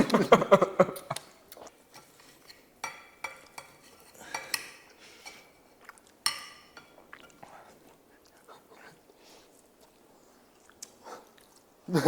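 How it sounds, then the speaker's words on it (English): Close, wet chewing and biting of steak cooked on a motorbike exhaust, with occasional clinks like cutlery on a plate and soft murmured voices now and then in a quiet room. "I wanna hear you chew."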